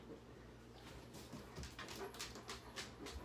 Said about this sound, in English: Please ignore my dog.